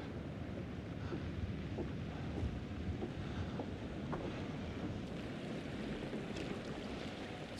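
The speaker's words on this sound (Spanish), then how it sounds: "Se escucha agua" Running water in The Dark Picture Anthology: The Devil in Me video game, a steady broadband rush like flowing water or surf that continues evenly at moderate to faint level without any voices.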